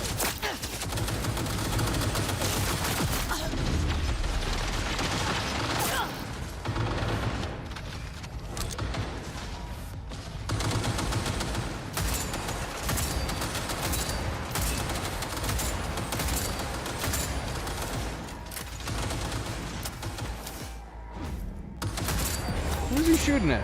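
Gunfire in the video game Cyberpunk 2077, dense bursts of automatic shooting and scattered single shots over about twenty seconds, loud and continuous with a voice talking underneath at times.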